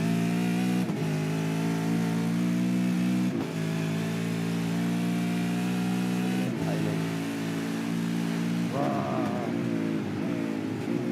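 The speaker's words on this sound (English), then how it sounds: "Car twitching, hard braking down into that right-hander." Supercars race cars roar around a track, engines loud and close, with several sharp drops in pitch as they brake hard and change down, then a rising rev near the end, no voices over it.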